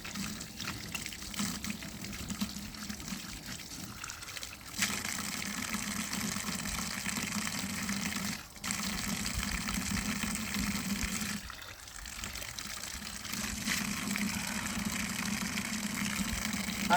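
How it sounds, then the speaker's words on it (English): Water running steadily from a tap at St Edmunds Church in Riby, a continuous gushing stream close to the microphone, briefly interrupted a few times, with no talk over it. "Time for some holy water."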